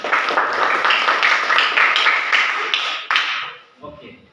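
A classroom of students claps together in a dense, loud burst of rapid hand claps that holds steady for about three seconds, then breaks off into a few scattered claps and quiet chatter.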